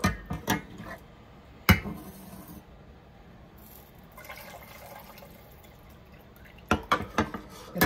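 Beef pho broth is strained twice in a kitchen, giving soft running and trickling liquid with a few clanks of pots and utensils at the start, middle and end, quiet and close.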